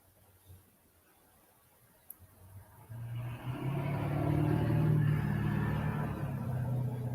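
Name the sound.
loud truck driving past the house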